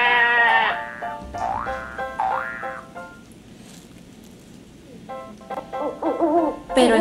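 A cartoonish sheep bleats loudly in an augmented reality animal race game, with wavering, pitch-sliding bleats and hoot-like calls at the start and again near the end, separated by a quieter stretch.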